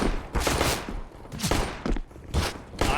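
Rapid pistol shots in a Counter-Strike match, several sharp loud bursts in quick succession with short gaps between them.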